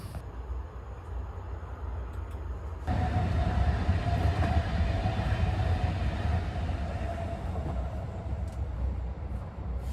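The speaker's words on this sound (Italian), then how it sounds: "Che traffico che c'è tra il treno e le macchine." A train rumbles past with a steady, loud roar that swells after a few seconds, mixed with the constant wash of nearby road traffic.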